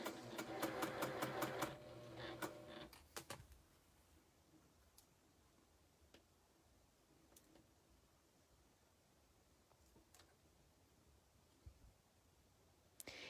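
A sewing machine chain-pieces quilt star blocks: a quick burst of rapid stitching at the start, then a quiet room with faint clicks and rustling fabric handling.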